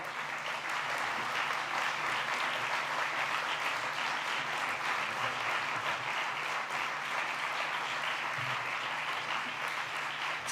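Sustained applause from an audience at a business award ceremony for entrepreneurs, steady and dense clapping filling the whole stretch with no speech over it.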